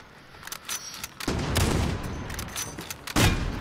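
Rapid gunfire from a Call of Duty Modern Warfare one-versus-one match on PS5, bursts of shots layered over a busy game soundscape, with a heavier volley near the end.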